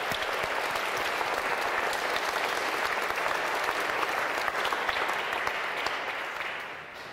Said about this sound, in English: I'm going to give yourself, before you sit down, a round of applause